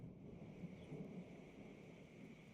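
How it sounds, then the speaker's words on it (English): Thunder rumbling during a severe derecho thunderstorm, picked up through a storm camera's microphone in Chesterton; a faint, steady low roar with soft swells, no voices. "You can even hear the thunder within the camera, which is pretty crazy."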